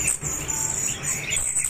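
Several birds chirp and tweet at once at a bird market in Indonesia, a dense, steady chatter of high calls close by with market background and no talk.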